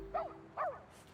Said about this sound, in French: On dirait bien que c'est l'aboiement de...